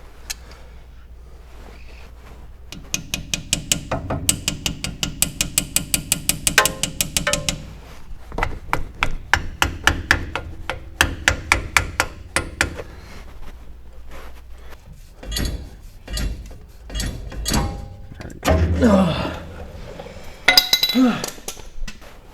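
Metal tapping, clinking and scraping on a stuck cotter pin's ends during rally prep on a car, with rapid runs of light taps and clicks, close by, and someone talking intermittently.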